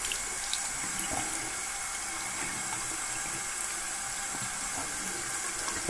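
Water runs steadily from a sink tap over thermal cycling gloves, a constant close splashing hiss with no voices, lasting the whole stretch.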